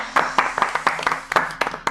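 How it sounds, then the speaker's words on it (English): A brief round of applause and clapping from a small group of players at a Star Wars tabletop RPG session, with irregular bursts of claps over about two seconds. "round of applause, you guys."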